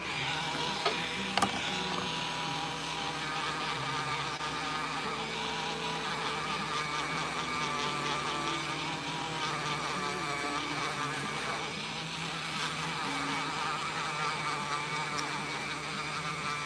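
Steady buzzing hum of a small rotary sanding tool smoothing a minor layer shift on a resin 3D-printed Sailor Moon figure, continuous and close throughout with one brief sharp tick near the start.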